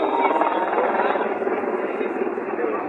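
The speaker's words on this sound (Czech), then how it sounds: "tady jsou prostě dva vrtulníky, já vám to ukážu" Two helicopters fly over a street demonstration in London, making a steady, buzzing rotor drone that holds throughout at moderate distance.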